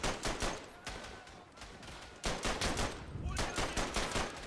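Rapid gunfire crackles in the World War I shooter Verdun, with dense bursts of rifle and machine-gun shots, a brief lull near the middle, then sustained loud volleys resuming.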